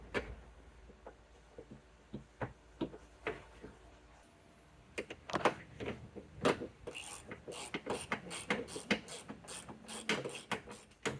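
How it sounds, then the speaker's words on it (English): Ratchet tightening T40 bolts on the door lock latch actuator of a 2017-2023 Chevrolet Bolt EUV, with sparse clicks at first, then a faster, louder run of ratcheting ticks close by. "And then with our T40 bolts, being able to tighten those up."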